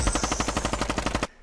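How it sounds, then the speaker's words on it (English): Rapid automatic gunfire from a video game shooter, a fast burst of about a dozen evenly spaced shots that cuts off abruptly, loud and close with no talk. "He's just shooting and we're dying."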